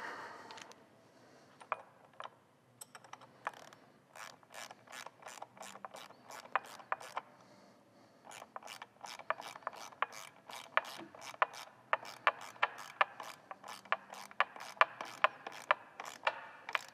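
Half-inch ratcheting wrenches tighten bolts on an El Diablo Low Rider ST, giving long runs of quick, evenly spaced ratchet clicks with short pauses between bursts, close and crisp.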